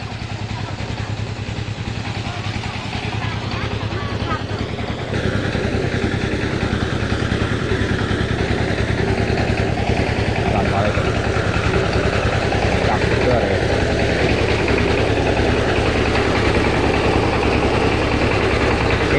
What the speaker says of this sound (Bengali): আর এখানে ধান মাড়াই করার একটা মেশিন আছে